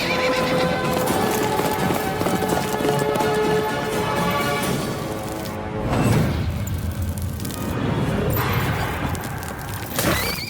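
Horse hooves clip-clop steadily and loudly amid whinnies and a dense dramatic film mix, with booming accents partway through and no clear talking.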